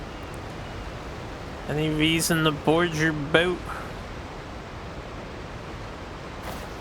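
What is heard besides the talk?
waterfall noise in video game Genshin Impact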